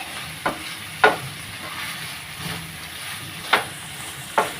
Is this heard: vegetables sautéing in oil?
yes